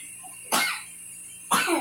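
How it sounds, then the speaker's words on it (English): A baby gives two short, sharp coughs about a second apart, close and fairly loud, with quiet between them. "Now the baby coughing."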